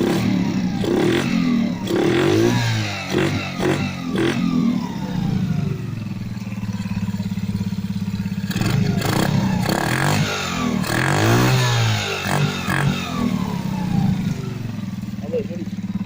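A motorcycle engine started for the first time and then revved, loud rising and falling revs with clattering mechanical noise, while a person talks over it at points.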